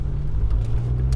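A Honda Civic EK4 race car's engine on a track day, a loud, steady low drone with a slight whir heard from inside the car for a moment.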